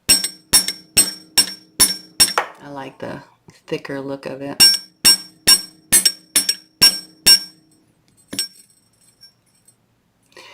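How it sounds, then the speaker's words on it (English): Sharp metallic hammer taps flattening 16 gauge wire for a pendant ring out in quick regular series, close and loud, pausing briefly while a person speaks, then resuming before trailing off. "This is 16 gauge, so I'm actually going to hammer it out a little bit more."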